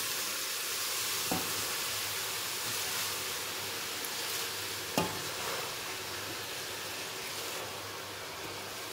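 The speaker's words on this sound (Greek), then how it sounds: "Προσθέτουμε τώρα το σπανάκι" Spinach hitting a hot frying pan for a Greek trahana dish gives a steady, close, rushing hiss that holds evenly throughout, with a couple of small clicks from the pan.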